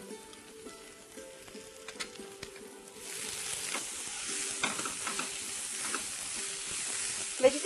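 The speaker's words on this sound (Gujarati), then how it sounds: "ના, એને જસ્ટ એને સ્ટર ફ્રાય કરવાના છે" Parboiled vegetables, including carrot, stir-fried with half a teaspoon of ajinomoto in a pan for American chopsuey, giving a steady close sizzle with scraping stirs; quieter clatter first, then the frying noise swells and holds.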